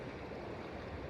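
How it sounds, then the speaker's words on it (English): A river runs near Banff, a steady, close broadband rush of moving water with low gurgling and no break across the short stretch. "I would film today's practice right along the river so you can enjoy the sound of the water as well"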